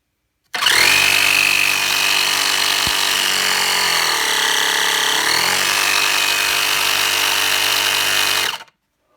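Converted portable tire air pump running loud and steady, a harsh buzzing motor whine that starts abruptly, holds for about eight seconds with a brief dip in pitch, then cuts off.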